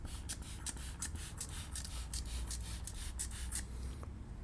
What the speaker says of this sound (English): And spray this down here.